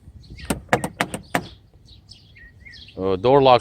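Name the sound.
1995 Mercedes SL600 door locks actuating with alarm chirp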